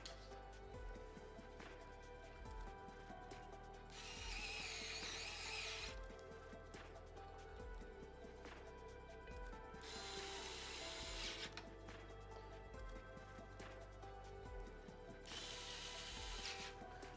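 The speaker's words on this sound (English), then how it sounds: "Let us get these screws on." Screws being driven into a Hyte Y60 PC case during a build, giving repeated ratcheting clicks in bursts of a few seconds each, close and fairly loud over a steady low hum, with pauses between runs.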